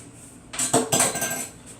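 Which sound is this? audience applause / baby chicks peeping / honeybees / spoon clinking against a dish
spoon clinking against a dish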